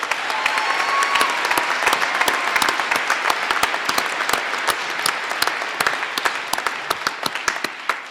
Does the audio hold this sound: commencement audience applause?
yes